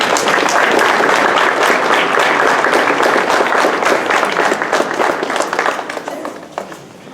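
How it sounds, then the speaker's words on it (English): Sustained crowd applause at a boys' soccer banquet, loud and dense from the start, thinning toward the end as the clapping fades out. "Let's give them another round of applause."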